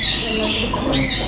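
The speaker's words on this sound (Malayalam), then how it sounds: "കിളികളുടെ സൗണ്ടും കാര്യങ്ങളൊക്കെ കാരണം നമുക്ക് സൗണ്ട് വളരെയധികം കുറവാണ്" Pet birds in an exotic pet shop let out a couple of sharp, close squawks, one at the start and another near the end of a brief moment of indoor chatter.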